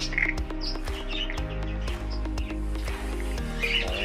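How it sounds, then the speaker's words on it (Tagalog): A pet bird in an aviary chirps in short, bright tweets over a steady droning hum, the calls scattered and fairly close. "So yun yung ating ibon."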